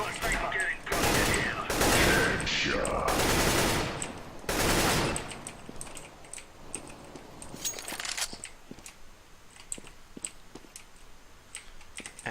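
Rapid bursts of video game gunfire and sniper shots crackle loudly in the first seconds, then give way to sparser clicks and scattered shots, with a voice talking over the action.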